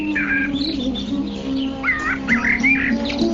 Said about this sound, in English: in the trees, which are maintained in gardens by the demigods, varieties of birds chirp with sweet voices